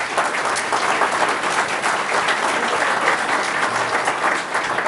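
An audience at a city council meeting claps together in a continuous burst of applause that holds steady throughout, moderately loud in a hall, with no speech over it.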